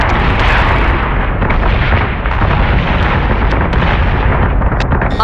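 Missile explosions in the Battlestar Galactica Deadlock space battle game, a continuous loud barrage of blasts and crackling bursts that roar without pause, heavy low rumble throughout and a few sharper pops on top.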